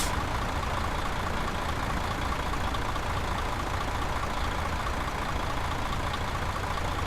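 Heavy truck in Euro Truck Simulator 2 rumbling steadily at close range, a dense, unbroken engine and road roar with a faint hiss that may be the brakes, and no voices over it.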